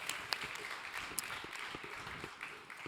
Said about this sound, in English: Applause for the jury.